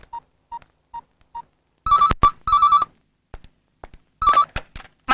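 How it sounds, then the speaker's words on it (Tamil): Telephone ringing for an incoming call in a Tamil comedy scene: a few soft short beeps, then loud repeated electronic ring bursts with clicks in between, close and clear. "மன்மத வீட்ல இருந்து போன் சார்."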